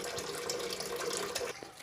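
A toilet cistern fills with water fed by a Grundfos twin impeller regenerative booster pump at 3.0 bar, a steady rushing hiss of water that cuts off abruptly near the end.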